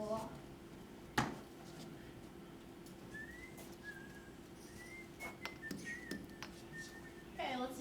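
Someone whistles a few short, thin rising notes in a classroom under low room noise, with a sharp bump near the start and a voice at the end.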